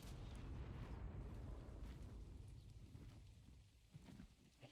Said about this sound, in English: I hear the explosions.